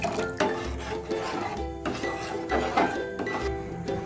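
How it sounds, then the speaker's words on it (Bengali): A spoon stirs warm milk with vinegar in a pot to curdle it into chhena, sounding as rhythmic scraping strokes repeating about once a second, close and fairly quiet. "আর এইভাবে অনবরত আমি নাড়তে থাকবো।"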